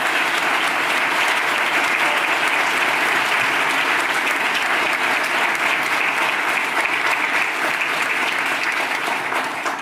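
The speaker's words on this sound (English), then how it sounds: "Can we give Jeff a round of applause?" Sustained applause from a conference audience at an organic farming awards keynote, honoring a roller crimper pioneer; dense, steady clapping fills the room evenly for about ten seconds, close and loud with no voices over it.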